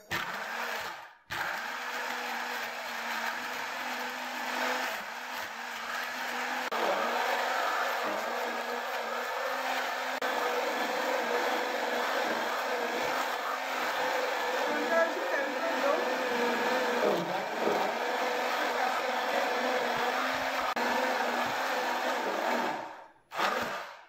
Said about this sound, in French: je vais essayer d'utiliser mon mixeur plongeant